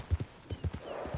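A horse in Red Dead Redemption 2 gives a few heavy, evenly spaced hoofbeats on the ground, close and distinct, followed by a faint trailing whinny.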